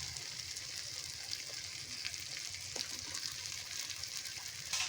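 Grated potato with turmeric and chili powder fries in a pan, giving a continuous close sizzle with faint stirring scrapes throughout.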